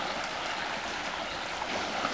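A rural stream near a family garden in E Nhôn commune, Vietnam, flows with a steady, close rushing wash of water that holds constant throughout, with no talking.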